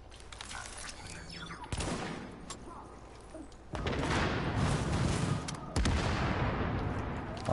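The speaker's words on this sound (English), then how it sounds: "Lots of explosions." Gunfire and explosions from the video game Tom Clancy's The Division during a side mission against hostiles and tanks, with bursts of shots and sudden booming blasts at intervals over a quieter background.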